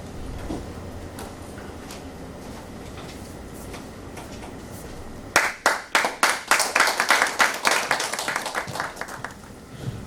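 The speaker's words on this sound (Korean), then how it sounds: "박수로 환영하겠습니다" A crowd bursts into applause partway through, many claps close together after a stretch of low room murmur.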